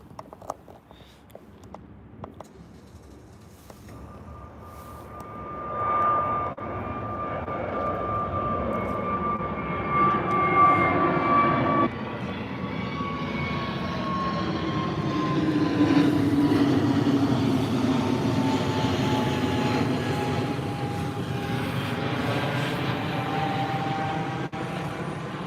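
EasyJet jet airliner taking off at Birmingham airport, its engine roar swelling steadily from a distance into a loud, sustained rumble with a high whine fading as it climbs away.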